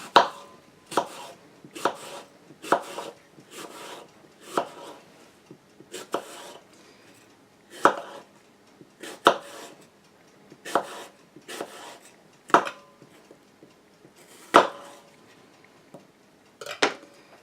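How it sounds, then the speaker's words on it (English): A knife slices an apple, skin on, into very thin slices on a cutting board, a series of sharp close chops in an uneven rhythm, about a dozen and a half separate cuts with quiet gaps between. "we're just going to make very, very thin slices"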